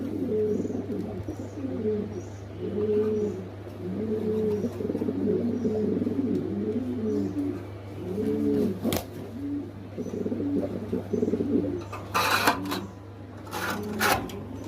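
Lahori pigeons, including a pair of yellow birds, coo in soft repeated rolling phrases close by, joined near the end by a few sharp clicks and rattles.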